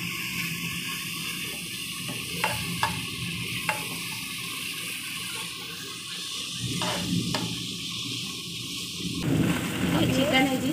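Onions fry in a pan for chicken khushka pulao, a steady broad sizzle running throughout while someone talks over it, growing louder and rougher toward the end.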